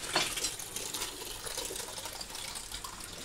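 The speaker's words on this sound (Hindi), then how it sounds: "पूजा जी चावल धो रहे हैं।" Rice is washed by hand in water, with a steady splashing, trickling sound close by, fairly quiet and continuous across the short stretch, no talking over it.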